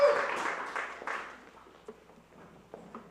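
An audience applauds a performer before a music set: a short, fairly faint burst of clapping that quickly fades to scattered claps.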